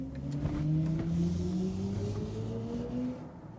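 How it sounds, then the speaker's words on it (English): A rear-wheel drive car in sport mode accelerates hard out of a corner, its engine note climbing steadily in pitch with a boosted, piped-in engine sound, loud and close throughout. "there's also an acoustic feedback when pushing the throttle"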